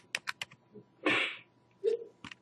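Computer keyboard arrow keys pressed while playing an interactive ActionScript project, a few quick light clicks followed by a couple of louder key taps, close and alone.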